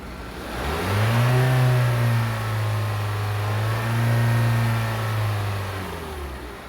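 A car engine, shown during a MAP, crankshaft and camshaft sensor demonstration, climbs in RPM from idle into a sustained steady rev, dips slightly and rises again, then falls back. It is loud and continuous with no talking.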